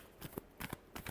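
Tarot cards are shuffled close by in a few quick, soft flicking bursts within about a second.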